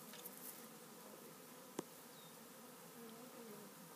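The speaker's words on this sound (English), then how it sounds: "Bee installation successful." Honeybees buzz around a newly installed hive, a steady soft drone close by with one brief sharp knock partway through and no talking.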